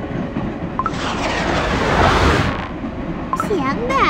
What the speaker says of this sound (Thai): ทั้งหมดขึ้นรถไฟแล้ว